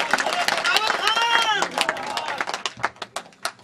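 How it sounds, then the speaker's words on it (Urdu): An audience at a political gathering claps for a PTI party member, starting with a loud voice over the crowd, then scattered, uneven handclaps that thin out toward the end. "ملک رضاول صاحب کے لیے بھرپور تالیاں"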